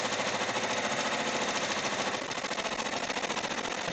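An embroidery machine stitches out placement lines for a foliage design, a steady dense mechanical rattle with rapid repetitive needle strikes, loud and close, running continuously throughout.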